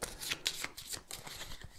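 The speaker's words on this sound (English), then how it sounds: "I've just got to shuffle those two cards back into the solo deck" Playing cards being shuffled back into a solo deck for a tabletop board game, a quick run of close, crisp riffling and flicking bursts with no talk.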